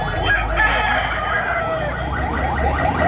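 A rooster crows at a busy chicken market in Tabunok, Cebu, its call rising over a dense, constant wash of crowd and poultry noise.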